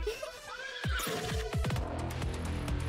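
Horse whinnies in the roguelike deckbuilder game The Spirit Lift, a loud close neigh followed by snorting and clattering game sound effects, with no talk.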